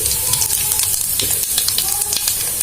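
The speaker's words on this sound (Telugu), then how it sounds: "ఇవి చిటపట్ల ఆడుతూ ఉన్నాయి కదా" Mustard and cumin seeds spluttering in hot oil for a chutney tempering, a steady bright sizzle with rapid little pops and crackles running throughout, close and fairly loud.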